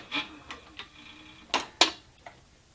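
A leather sewing machine stitches a saddle, giving a few separate mechanical clicks and clunks. The two louder strikes sit close together near the middle, with short pauses between the other clicks and no talk.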